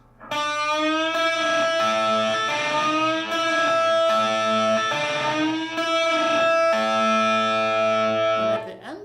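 A distorted electric guitar plays a metal lead line with notes bent upward, sustained and repeated several times, loud and close.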